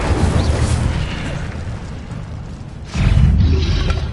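Incendio fire spell cast in a wizard video game, a loud roaring burst with rumbling low body that fades, then a second louder whooshing blast near the end.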